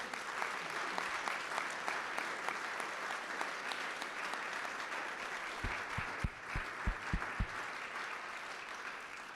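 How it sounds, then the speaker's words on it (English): An audience applauds students at a panel event with senators, a sustained, even round of clapping heard at a distance, with several sharp nearby claps or thumps near the end. "maybe have a little applause for these students"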